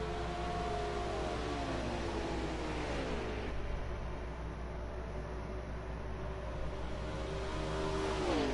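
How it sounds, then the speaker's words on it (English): An underpowered race car engine at a Chicago track drones past with a sliding, falling pitch, its whine easing then rising again over a steady background roar. "that car sounds very underpowered"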